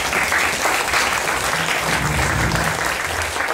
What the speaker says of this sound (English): Let's have a round of applause once again for all of them.